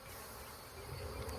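Honey bees buzz in a steady, dense drone close by at an outdoor hive on a cloudy, damp day, a brief continuous hum with no voices.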